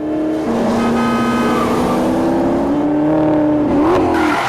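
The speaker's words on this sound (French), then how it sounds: "La voiture va très très vite." A car accelerates hard and very fast through traffic on an expressway along a riverbank, its engine revving loudly and climbing steadily in pitch, continuous and close with no talking.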